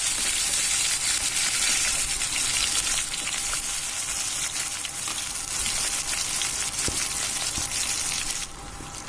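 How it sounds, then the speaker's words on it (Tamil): Shallots, curry leaves and green chillies sizzle steadily in hot oil over a wood fire for a Kilakarai dried-fish curry, a continuous close frying hiss with occasional stirring clicks and no talk. "சூடானதுக்கு அப்புறமா சின்ன வெங்காயம், கருவேப்பிலை, பச்சை மிளகாய் இது மூணையும் போட்டு கொஞ்சமா வதக்கணும்."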